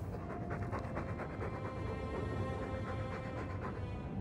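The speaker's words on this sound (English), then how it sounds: "All that noisy dog breath, day in, day out, make him stop." A dog pants steadily in the video game Dragon Age 2, quick rhythmic breaths filling the whole stretch at a constant level with faint game ambience beneath.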